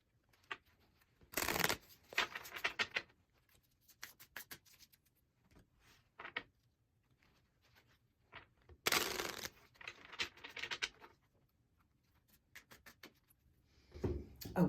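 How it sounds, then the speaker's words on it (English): Oracle cards being shuffled in quick bursts, with two loud riffle shuffles and softer handling and sliding sounds in between, close up with no talking. "So let's get these shuffled up just to see what our collective guidance is through the card pull."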